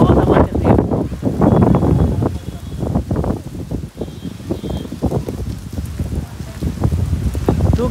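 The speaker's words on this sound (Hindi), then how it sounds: "भाई साहब क्या गंदी हवा चल रही है यार" Strong, gusty wind blows hard around a parked Tata Nano car as rain begins, a broadband rushing roar that swells and dips throughout, with people talking over it.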